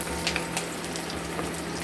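Eggs fry in hot oil with a steady, close sizzle and scattered small pops, and no talking.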